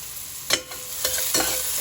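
Ginger frying in a pan with oil sizzles steadily while being stirred, with a few louder scraping bursts of the spoon against the pan.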